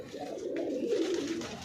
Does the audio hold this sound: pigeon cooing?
yes